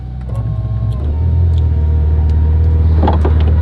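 A Ferrari convertible with its top down accelerates, its engine rising from a low idle into a loud, close, sustained rumbling roar, with no talking.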